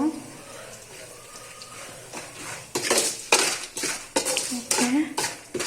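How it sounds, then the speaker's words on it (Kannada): A spoon scrapes and clanks against a pan while spiced puffed rice (kara mandakki) with salt, chilli and masala is stirred, giving close, rhythmic metallic strokes that grow louder partway through. "ಉಪ್ಪು ಖಾರ ಮಸಾಲೆನೆಲ್ಲ ಹಾಕೋಣ ಚೆನ್ನಾಗಿ ತಿರುಕೊಳ್ಳಿ"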